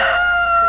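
A rooster crows in one sustained, loud, close call with a steady strained tone, cutting off abruptly at the end.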